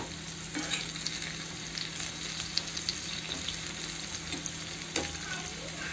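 Spinach pakoras fry in hot oil with a dense, continuous crackling sizzle and a few soft stirring knocks, close and steady, with a faint low hum underneath and no speech.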